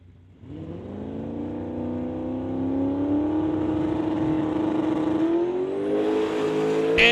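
Drag race cars, including a 2003 Ford Shelby Cobra Mustang, launching at an outlaw shootout, with the engine note rising into a loud, sustained revving roar that climbs steadily in pitch.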